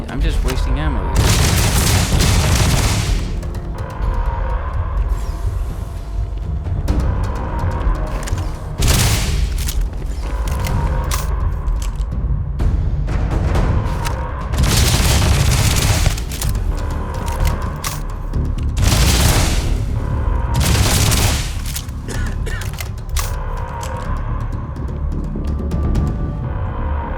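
Heavy blasts and gunfire in a video game, with loud booming bursts recurring every few seconds over a constant rumbling battle din throughout.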